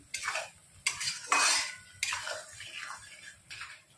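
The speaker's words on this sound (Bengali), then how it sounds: "আর পেঁয়াজের সাথে কাশ্মীরি লঙ্কার গুঁড়োটা দিয়ে 5-10 মিনিট আবার একটু নাড়াচাড়া করে নেব।" A spoon stirs onions with Kashmiri chili powder in a pan, making several distinct scraping, clinking strokes against the metal over a faint background, with a soft sizzle between them.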